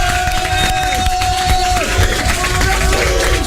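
A studio audience at a radio broadcast applauds the Pizza Hut staff with dense, continuous clapping and some cheering. A steady tonal hum runs underneath the whole time.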